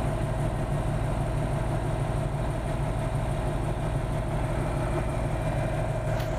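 A Komatsu D375 bulldozer engine holds a low idle, a steady, loud, unbroken diesel rumble with a constant low drone throughout and no talking.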